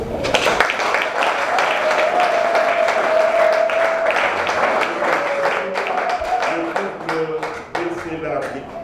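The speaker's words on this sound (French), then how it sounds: "le couple Bessel de Sono, si nous pouvons les applaudir" A crowd applauds at an organisation's 40th birthday celebration, a dense and steady wash of clapping that fades toward the end, with voices and tonal sounds mixed in.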